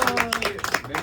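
Rhythmic hand clapping at a birthday celebration, quick, even claps keeping time under a singing voice.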